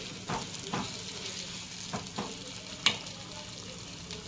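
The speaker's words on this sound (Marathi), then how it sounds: "आता कोळंबीला मस्त तेल फुटलेलं आहे" Prawns sizzle in hot oil for prawn masala, a soft steady frying hiss with a few spatula scrapes and one sharp clink, close and quiet, no talking.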